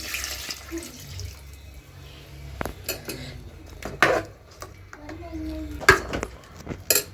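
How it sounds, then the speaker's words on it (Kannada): Water being added to a pot of chicken masala, with running and splashing water mixed with clinking utensils and a few louder metal knocks, close by, and faint voices murmuring in the background. "ಇವಾಗ ಸ್ವಲ್ಪ ನೀರು ಹಾಕ್ಕೊತೀನಿ."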